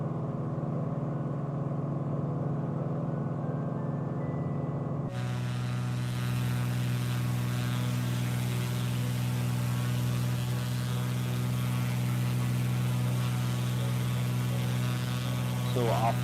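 Steady droning hum of a propeller aircraft engine flying over the Solomon Islands in Microsoft Flight Simulator, holding constant throughout, shifting to a louder, brighter tone partway through.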